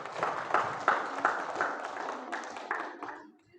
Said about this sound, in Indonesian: Ya, tepuk tangan untuk kelompok Tina.